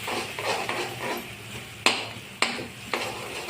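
Spice masala with tomato being stirred and sautéed in a pan, a soft frying hiss and scrape followed by three sharp spoon knocks against the pan rim, close, with no talk.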